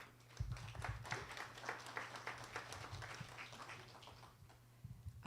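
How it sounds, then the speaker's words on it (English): A small audience at a live poetry recitation event gives a brief, light round of clapping, faint and scattered, thinning out before a few last claps. "So just a little clap."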